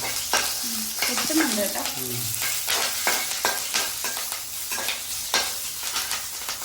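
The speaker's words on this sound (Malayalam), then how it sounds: "പച്ചമുളക് ഇട്ട് കൊടുക്കാം പച്ചമുളക് ഒന്ന് ചെറുതായിട്ട് വാടട്ടെ" Green chillies frying in a pan with a dense, bright sizzle and frequent stirring scrapes, close and loud throughout, alone without speech.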